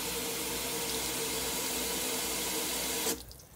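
A water hose gushes into a hole in a Kia Sportage frame, flushing out mud in a steady, loud rushing stream that cuts off abruptly near the end.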